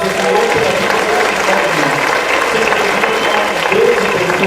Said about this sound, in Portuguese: Vamos dar uma forte aplauso ao Senhor pela vida